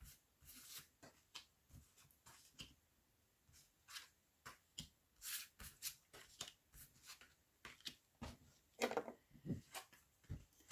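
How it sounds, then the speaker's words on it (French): Tarot cards drawn and laid out from a deck, giving soft, quiet flicks and taps in a loose irregular sequence of short card sounds, close up and with no talk. "on va refermer la coupe et sortir 5 cartes pour vous"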